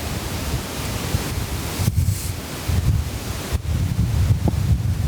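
Strong storm wind gusts across an open field near a chateau, a steady loud broadband roar with surging blasts and brief lulls, buffeting the microphone throughout with no voices.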